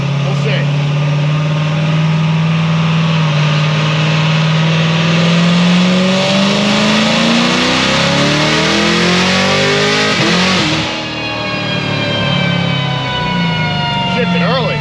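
A Stage 5 Corvette C7 Z06 with a 2650 Magnuson supercharger and automatic transmission accelerates hard, its engine note climbing loudly until an upshift near eleven seconds, then rising again with a whining supercharger.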